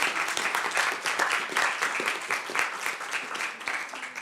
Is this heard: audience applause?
yes